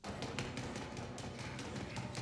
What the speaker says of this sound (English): It's just urgent knocking.